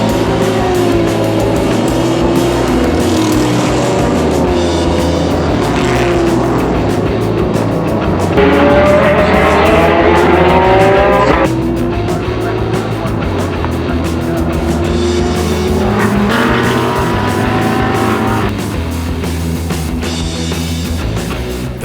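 Race cars compete in a three-hour endurance race at Highland Motorsport Park, their engines loud and close as they rev up through the gears and ease off again, one car after another, with constant roar throughout.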